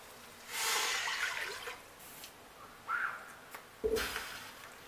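Water is poured into a cooking pot for parboiling Irish potatoes, coming in a few short splashing bursts with quiet pauses between them, close and fairly soft.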